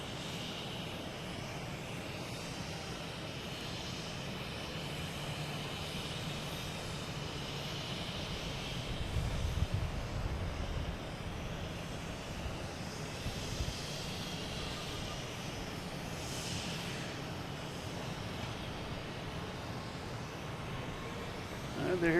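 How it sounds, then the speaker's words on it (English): A Cape Air Cessna 402 twin-engine propeller plane coming in to land at Boston Logan Airport, a steady broad engine rumble and rushing drone heard outdoors from a distance, swelling slightly midway, with no clear talk. "we have Cape Air, Cessna 402 coming in from Nantucket."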